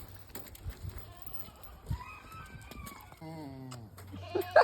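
Goats and sheep bleat on a farm where a cow has just calved, several wavering calls rising and falling in turn at moderate distance over soft barnyard background, with a louder bleat close by at the end.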